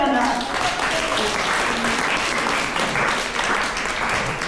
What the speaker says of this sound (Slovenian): En aplavz za Mirana.